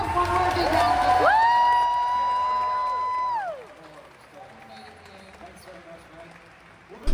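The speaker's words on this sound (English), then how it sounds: "Let's have one more big round of applause." Crowd applause and cheering at a cosplay contest with a loud sustained whoop rising over it, then the clapping fades away to a quiet room.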